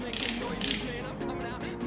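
Torque wrench ratcheting on engine bolts during final assembly of an LQ9 small block V8 rebuild, a run of close, quick metallic clicks repeating steadily for about two seconds with no talking.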